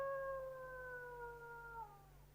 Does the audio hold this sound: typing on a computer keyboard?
no